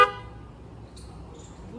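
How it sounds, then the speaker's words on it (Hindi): Horn of a Yamaha RX100 100cc motorcycle, fitted with a car-style horn, gives one short loud blast at the very start, then fades into low road and traffic rumble. "फुल क्रेटा वाली वाइब आती है इसके हॉर्न से"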